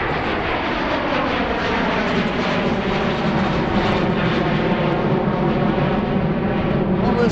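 An Air Canada airliner takes off from runway 9 left at Philadelphia, a loud, continuous jet roar that holds steady throughout with no voices.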